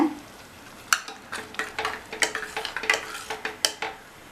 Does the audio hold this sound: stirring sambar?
yes